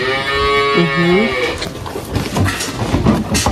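Cows in a farm corral moo loudly and close by before the afternoon milking, one long drawn-out call rising and falling, followed by scattered shuffling and farmyard noise.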